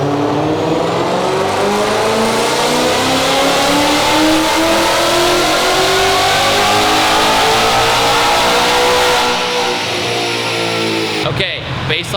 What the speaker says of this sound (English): baseline dyno run